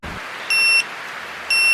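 A tire pressure monitoring system on a vintage car sounds its low-pressure alarm: two short, bright electronic beeps about a second apart, clear and close over a steady background hiss.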